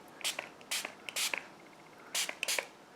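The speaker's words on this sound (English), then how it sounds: "I'm going to spray a little bit up here." A hand-pumped spray bottle mists water onto watercolor paper in quick, hissing bursts, some doubled, about eight squirts in two clusters, close and crisp with quiet gaps between.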